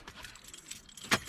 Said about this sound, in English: Car keys.